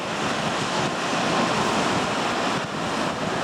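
Sea waves breaking on the beach at Brzeźno, a continuous loud roar of surf mixed with wind buffeting, steady and close with no voices.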